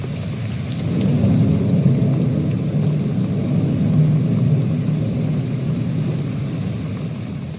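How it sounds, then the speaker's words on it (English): Steady rain with a low, rolling rumble of thunder swelling around the second mark, heard close and loud with no voices, a continuous stormy wash throughout. "There's nothing more zen than rain."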